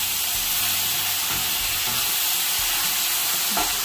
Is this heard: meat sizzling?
yes